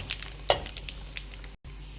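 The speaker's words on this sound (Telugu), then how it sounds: "ఆయిల్ వేడెక్కిన తర్వాత ఆవాలు, జీలకర్ర, కొంచెం జీడిపప్పు పలుకులను అయితే వేయాలి." Mustard seeds, cumin and cashew pieces sizzle steadily in hot oil for pongal tempering, with light crackling pops and a sharper burst early on, close and fairly loud, no voices.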